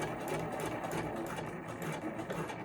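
Sewing machine stitching a fabric keychain wallet, a fast steady rhythmic needle clatter running throughout at close range, with no talking.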